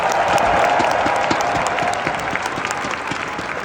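A large arena crowd at a Vince Carter jersey retirement halftime event at Barclays claps for his family and friends, a dense, loud, sustained roar of applause that eases slightly toward the end.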